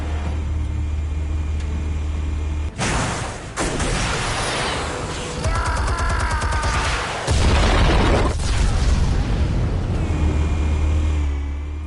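Explosives detonate in Batman: The Telltale Series, heavy booming blasts and rumbling roars over a low steady drone, loud and close, with a sustained crackling barrage in the middle and a deep rumble after.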